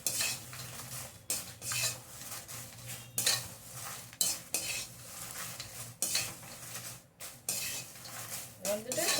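Dried curry leaves are stirred and lightly fried in a pan, with repeated scraping strokes of a metal spoon against the pan over a faint sizzle, the strokes coming in bursts every second or so.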